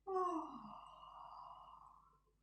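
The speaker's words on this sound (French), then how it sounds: "Et expirer, accentuer le bâillement." An exaggerated yawn exhaled during a Hatha yoga warm-up, one soft breathy drawn-out sound that falls away over about two seconds in a quiet room.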